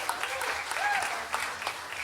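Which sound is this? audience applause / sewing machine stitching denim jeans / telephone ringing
audience applause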